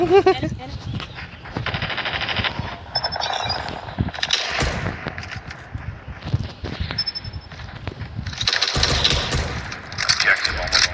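M1 Garand rifle fire in the multiplayer mode of Call of Duty Mobile comes as repeated sharp shots and gameplay effects over a busy mix, with a person talking throughout.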